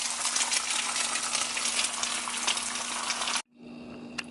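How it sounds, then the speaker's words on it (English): Eggs sizzle loudly in leftover steak grease, a steady bright frying hiss that cuts off abruptly near the end, leaving a quieter background. "I'm just gonna crack my eggs and put them in there just like"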